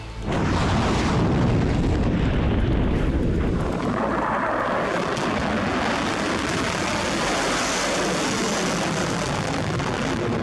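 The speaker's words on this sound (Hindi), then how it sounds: "आईआरजीसी की एयर स्पेस फोर्स ने अलग अलग लोकेशन से मिसाइल लॉन्च की।" An Iranian Kheibar Shekan ballistic missile launch gives a loud, sustained roar. A sharp blast at the start swells into a heavy, rumbling thrust that continues without pause to the end.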